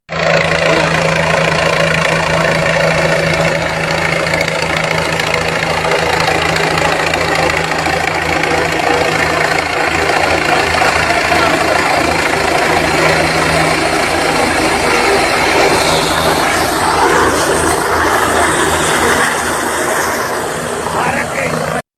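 A helicopter engine runs loud and continuous with a steady low drone and throbbing mechanical vibration, shifting slightly in tone near the end.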